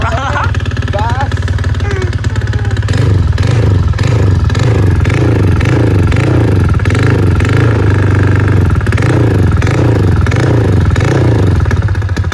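A Honda Vario scooter engine, rebuilt and upgraded after overheating trouble, revs loudly and close in a rapid series of repeated throttle blips over a constant engine drone, with people talking in the background.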